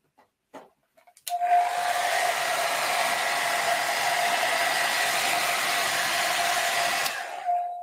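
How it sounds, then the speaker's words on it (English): A hairdryer blows nearby to dry a watercolour wash, switching on after a few small clicks and handling noises, then running as a steady, fairly loud whooshing hum for about six seconds before cutting off. "So I'm going to get out my hairdryer."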